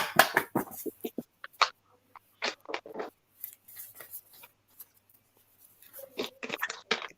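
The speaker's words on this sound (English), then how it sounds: "I hear shuffle twice, so I'm going to shuffle twice for you." Tarot cards are shuffled in quick bursts of crisp riffling and scratchy flicks, close up, separated by short pauses.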